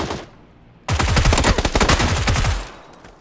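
Rapid automatic gunfire in the video game PUBG, a loud burst of quick repeated shots lasting under two seconds, following a faint distant shot, with no talking.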